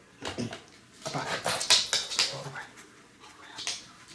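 An Aussie dog whimpers in short, high, repeated bursts during a treat-based training session at home, the soft cries coming close and clear with a person talking intermittently.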